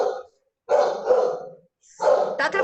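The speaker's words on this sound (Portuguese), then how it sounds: "Tá atrapalhando o cachorro?" A house dog barks in loud bursts close by, separated by short gaps, interrupting an informal online lecture.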